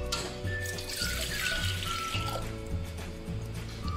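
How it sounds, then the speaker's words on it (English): Water pours steadily into a breadmaker's bread pan, a continuous close splashing fill running without pause under a low background hum. "So let's add first the water."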